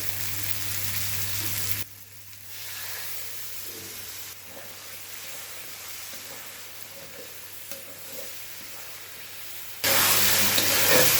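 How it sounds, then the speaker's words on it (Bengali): Spice masala sautéing in oil in a pan over a lowered gas flame, a soft close sizzle with occasional stirring scrapes, framed by louder bursts of hiss at the start and end. "এবার গ্যাসের জালটা কমিয়ে দিয়ে 3-4 মিনিট কষিয়ে নে"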